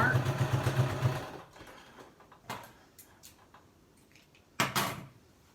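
A sewing machine stitches along marked lines on a fitted fabric mask, its motor running steadily for just over a second before stopping, followed by a few scattered clicks and handling noises.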